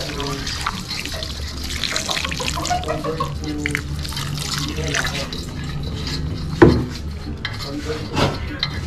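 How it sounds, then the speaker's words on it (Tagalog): Water poured into a cooking pot of crabs and shrimp, a steady splashing stream with clinks of pots and utensils, while a voice talks over it and a sharper knock lands near the end. "Siyempre, lalagyan na rin natin ng tubig."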